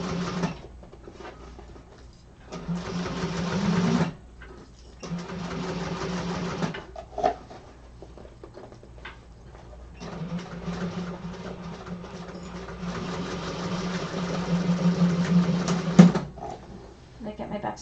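A sewing machine runs in several bursts while back-stitching a cotton seam during a sewing class. The steady motor hum starts, stops and starts again, with a person speaking between and over the runs.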